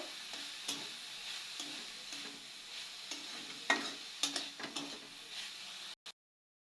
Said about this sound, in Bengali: পেঁয়াজ কলিটা দিয়ে ভালো মতো একটু ভাজা ভাজা করে নিব।